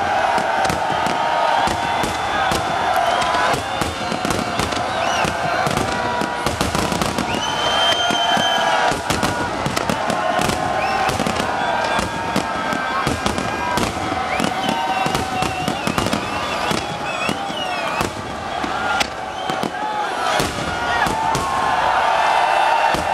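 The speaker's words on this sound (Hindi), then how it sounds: "लाहौर हॉकी स्टेडियम में 12 बजते ही आज़ादी का जश्न शुरू हुआ। शानदार आतिशबाजी की गई" Fireworks burst over a Lahore hockey stadium at a midnight independence celebration, with rapid, loud crackling pops and bangs packed densely over a roaring, cheering crowd for the whole stretch.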